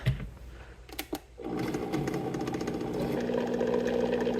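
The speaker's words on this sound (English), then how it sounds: "Then I'm going to get this blended up before I add in the ice." A blender whirs steadily while mixing a keto chow and protein drink in a quart mason jar before any ice goes in. It opens with a few short bumps, then settles into a continuous close, moderately loud motor drone.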